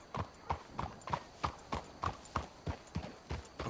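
Horse hooves clip-clop at a steady, even walking rhythm in Red Dead Redemption 2, about a dozen crisp close strikes over a few seconds with nothing else heard.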